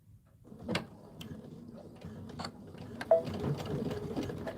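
Sewing machine running a quarter-inch seam allowance near a zipper on a quilted panel, a soft, steady mechanical whir with small ticking clicks and a few sharper knocks, fairly close and low in level.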